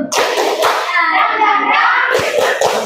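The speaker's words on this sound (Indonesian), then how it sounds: "Ya, tepuk semangat." Schoolchildren in a classroom perform a rhythmic spirit clap, tepuk semangat, sharp group claps punctuating the start and end around a stretch of children's chanted voices in between.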